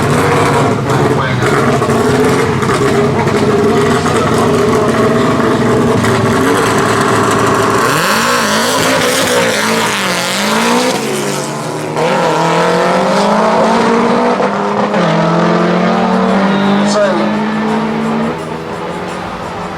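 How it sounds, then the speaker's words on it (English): A loud Subaru-engined race car roars and revs hard on a quarter-mile drag strip, pitch sweeping up through gear changes, continuous and close throughout. "Massively powerful Subaru engine holding"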